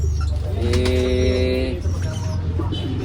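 Soft racing pigeon cooing over a steady low hum, with a brief higher chirp partway through; no one speaks.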